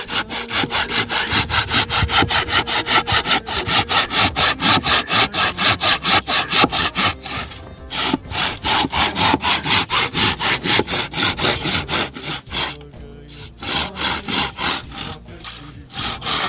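A hand saw cuts through wood during construction of a mountain house, making loud, close, rhythmic back-and-forth rasping strokes that hold a steady pace, with a couple of brief pauses and no talking.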